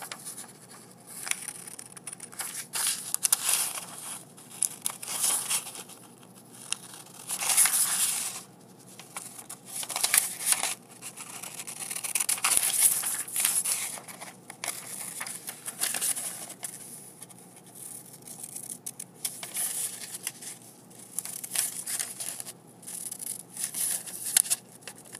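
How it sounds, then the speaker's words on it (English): Scissors snip and rustle through paper while a net for a three-by-three-square shape is cut out, in quiet irregular bursts of crisp cutting and paper handling close by. "Now what I'm going to do is I'm going to cut this out."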